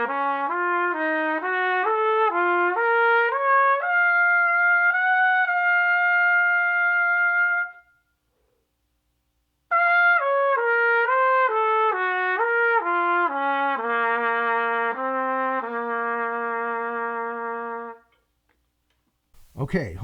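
A trumpet plays a soft, controlled slur exercise with smooth stepwise lip slurs across registers. Two sustained phrases are separated by a short pause, and a brief noise follows at the end.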